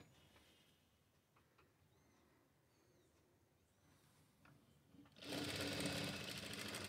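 A sewing machine stitches fabric during a basic tailoring class, starting suddenly after a quiet stretch of faint handling sounds and running loud and steady for the last couple of seconds.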